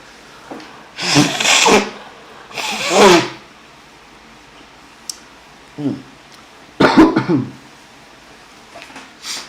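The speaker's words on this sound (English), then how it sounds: "let me blow my nose real quick" Several loud, forceful nose blows come in bursts, two close together then more after a pause, with soft rustling between.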